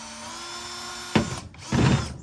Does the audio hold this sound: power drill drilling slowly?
yes